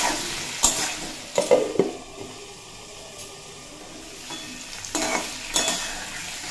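Mixed vegetables for a Bengali ghonto, made without onion or garlic, stir-fried in a pan with salt and turmeric: close spatula scrapes and stirring bursts over a steady soft sizzle, with no talking.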